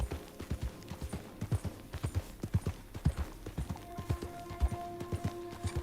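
Horse hooves clip-clop at a steady walking rhythm in Red Dead Redemption 2, close and clear, with a faint tonal hum entering partway through.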